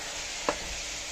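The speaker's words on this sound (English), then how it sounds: "the spinach with the mixed vegetable with the dry mushroom. So I saute it." Spinach, mixed vegetables and dried mushroom sauté in oil with a steady, bright sizzle and one short stirring scrape in the middle, close and even, with no speech.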